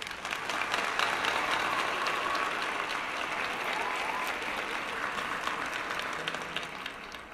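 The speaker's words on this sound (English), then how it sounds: "I'm going to give her a round of applause" Steady, sustained applause with dense, even clapping that holds at a constant level for several seconds before easing slightly at the end.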